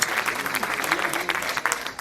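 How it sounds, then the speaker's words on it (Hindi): An audience at a Hindi comic poetry mushaira in Delhi claps briskly, a lively continuous round of applause that stays fairly close and even throughout. "इसलिए थोड़ी ताली वाली बजाते रहना"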